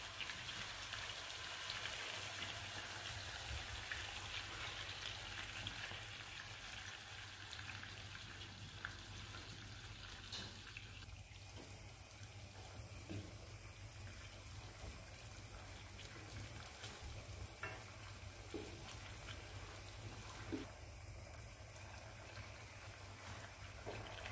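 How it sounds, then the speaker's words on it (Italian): Tomato added to a pan sizzles in sauce over moderate heat, a steady soft crackling hiss with scattered pops, continuous and fairly quiet with no talking. "Ora possiamo aggiungere il pomodoro in padella."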